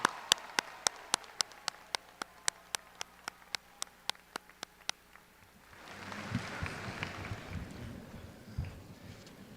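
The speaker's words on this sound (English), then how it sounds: "Give them a round of applause." An audience at a Pitt Community College commencement ceremony breaks into a broad wash of applause for the standing faculty, rising after a run of sharp, regular ticks and holding steady and moderately distant.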